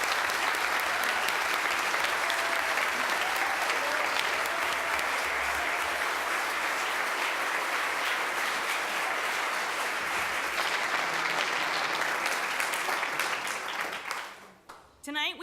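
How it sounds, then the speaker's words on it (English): An audience applauds to welcome the candidates at a mayoral and town council candidate forum in Westfield, New Jersey, with sustained, even clapping that fades out near the end as a voice begins. "you can welcome all the candidates with a round of applause"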